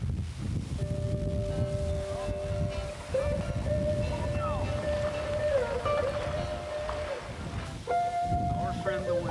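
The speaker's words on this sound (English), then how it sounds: "Our friend the wind." Gusty wind buffets the microphone outdoors during fly fishing, a rough steady roar with surges, joined by a few faint tonal whistles and a person's voice.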